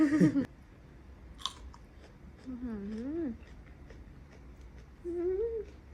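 Someone chews sour bilimbi fruit with soft, wet bites and crunches close by, while a voice talks over parts of it.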